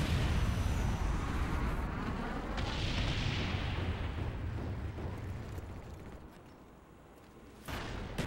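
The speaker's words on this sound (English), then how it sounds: "Napalm strike coming in." Napalm strike explosions in Call of Duty on the Summit map during a Domination match: a continuous, loud, rolling roar of fire and blasts that slowly subsides, with a sharp new burst near the end.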